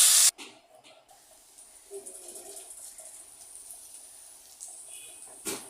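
Ground spice pastes of poppy seed, onion, garlic, ginger and pepper hitting hot oil with cumin seeds, a sharp loud initial hiss that settles into a steady quiet sizzle, with a brief spatter near the end.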